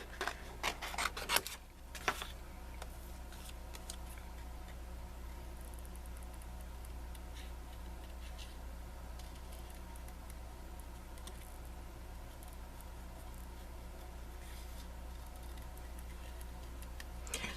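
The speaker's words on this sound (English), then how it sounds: "Let's cut out the little ones and see how that goes." Scissors snip steadily through paper card embellishments, a faint, quiet run of small regular clicks with a few louder cuts near the start, no voices.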